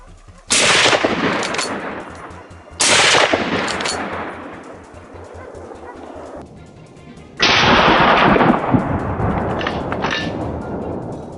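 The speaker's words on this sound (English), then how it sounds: "The gunshot rang out decisively" A hunter's rifle fires three loud, sharp gunshots in a snowy winter forest during a wild boar hunt, each blast followed by a long rolling echo that fades over a couple of seconds.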